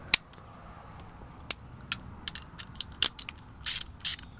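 A ratchet with an extension loosening a 14 mm bolt on a budget diesel heater car-camping build gives sharp metallic clicks. There are a few scattered single clicks, then quicker clusters near the end, close against a quiet background.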